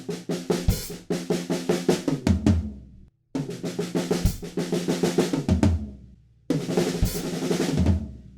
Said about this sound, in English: halfway through there's this quick little fill that sounds like this.